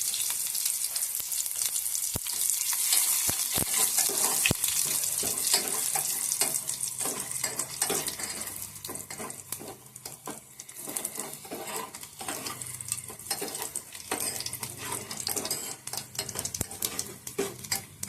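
Garlic and vegetables sizzle and fry in a pan for a raw mango curry, a bright continuous crackle with scattered clinks and scrapes of stirring, the frying easing slightly partway through.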